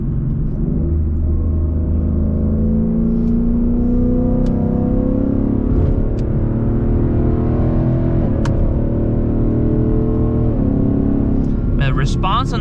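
A Ford Mustang in S mode with paddle shifters accelerates hard, its engine droning loudly and rising in pitch, with shift breaks and some faint clicks near the end.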